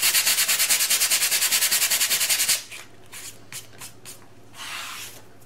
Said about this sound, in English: I decided to go ahead and sand it, and I might even sand it a little bit more.